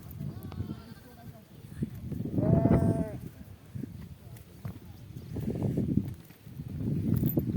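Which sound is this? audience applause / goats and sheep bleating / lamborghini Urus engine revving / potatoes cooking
goats and sheep bleating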